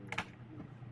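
A few quick, faint clicks on computer keys, pressed to start a live stream, over quiet room noise.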